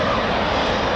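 Loud, steady roar of a military jet aircraft taxiing at an RAF station, a continuous engine rumble with no break.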